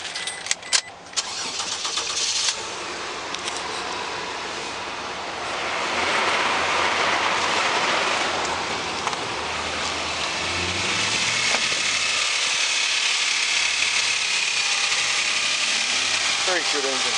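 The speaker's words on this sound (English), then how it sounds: "We'll start her up." A 2007 Toyota Hilux with a 1GR-FE 4.0-litre V6 at 200,000 km cranks and catches in a brief start, then settles into a steady, fairly loud idle at a parts yard, with some talk over the engine.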